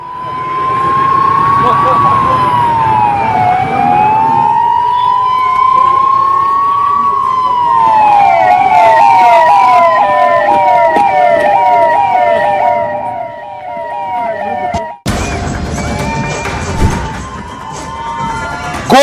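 Wailing emergency sirens from fire brigade and ambulance vehicles, sweeping and yelping loudly and close for most of the stretch, with a crowd murmuring underneath and the siren pattern shifting abruptly near the end.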